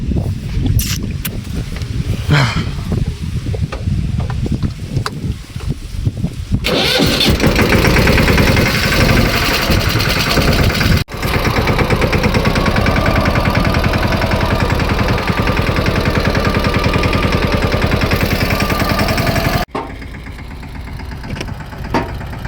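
A farm tractor working a millet harvest starts with a loud roar, runs at a steady rumbling idle close by for about thirteen seconds, then cuts off, after some lighter handling noises.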